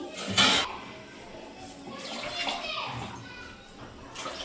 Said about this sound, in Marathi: अजून थोडंसं पाणी टाकते मी